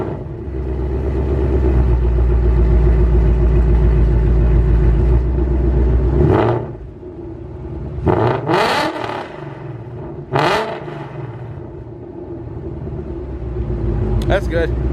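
Stock-exhaust 2018 Jeep Trackhawk SRT idles with a loud, steady rumble, then blips its throttle in three or four sharp revs, the engine settling back between each.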